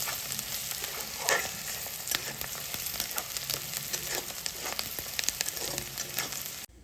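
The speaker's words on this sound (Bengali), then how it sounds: "পেঁয়াজ দেওয়ার পর পেঁয়াজগুলোকে কিছুক্ষণ নাড়াচাড়া করে ভাজবো।" Chopped onions and cumin seeds sizzle loudly in hot oil for a beans and potato curry, a dense steady crackle punctuated by repeated scraping stirs of a spatula against the pan, cutting off abruptly at the end.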